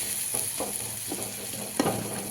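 Tomatoes sautéing in a pan for okra tamarind curry, giving a steady soft sizzle with a few stirring scrapes, moderately close, and no talking.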